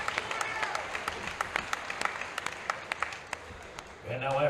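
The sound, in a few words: round of applause after a championship bout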